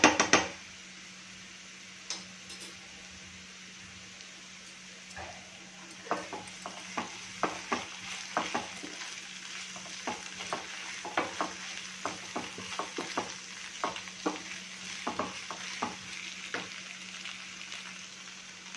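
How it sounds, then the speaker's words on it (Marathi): Onion and ginger-garlic paste frying in a pan for mushroom masala, a low sizzle under a string of clicking, scraping spatula strokes against the pan that grow busier in the second half, close and without voices. "कांदा छान परतून घ्यायचा आहे."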